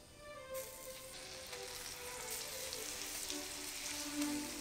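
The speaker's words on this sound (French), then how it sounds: "Quand le beurre est fondu, j'ajoute le sucre. Je vais y ajouter mes bananes." Bananas frying in melted butter and sugar, starting as a sudden soft sizzle that builds into a steady, faint, close bubbling hiss.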